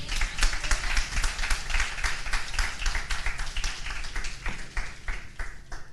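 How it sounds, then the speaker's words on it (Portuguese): A church congregation applauds during a sermon, a dense wash of many hands clapping steadily and fairly close for the full stretch, with no talk over it. "pode aplaudir o Senhor"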